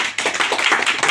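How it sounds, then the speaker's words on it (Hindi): A church congregation claps their hands in praise, a brief burst of close, overlapping claps in a quick, uneven rhythm. "ताली बजाकर हम प्रभु की स्तुति करें।"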